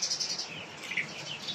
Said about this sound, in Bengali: তাকাও বাবু, চড়ুই পাখি।